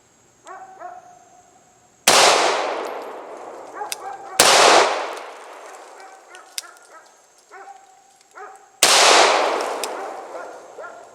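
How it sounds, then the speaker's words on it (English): Three sharp, loud pistol shots from a Beretta M9 firing 115 grain full metal jacket rounds at a Master Lock, each with a ringing decay, spaced a few seconds apart with quiet pauses between them. "So we're coming with the Beretta M9, just 115 grain full metal jacket."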